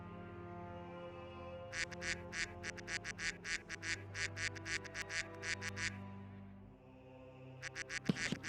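Voices imitate duck quacks during an online tabletop gaming session, a fast, evenly paced chain of about fifteen nasal quacks, then a pause and a few more near the end.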